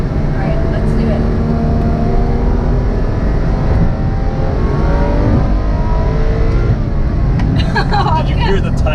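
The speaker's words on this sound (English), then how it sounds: "Did you hear the tiny little backfire?" A Ferrari F12 Berlinetta revving and accelerating hard from inside the cabin, the engine note rising in steady sweeps, with a brief crackle of exhaust backfire near the end.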